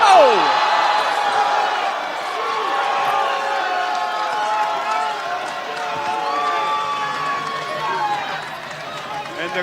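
An arena crowd at a professional wrestling match roars and murmurs in a loud, sustained wave of mixed voices after a near-finish pinfall kick-out.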